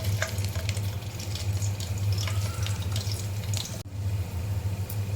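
Garlic frying in a big spoonful of oil for a Konkani-style tempering, a steady close sizzle with faint water-like crackle, continuous throughout with a brief dip near the end.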